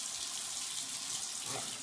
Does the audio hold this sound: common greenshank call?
no